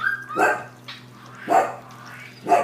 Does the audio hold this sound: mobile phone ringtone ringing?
no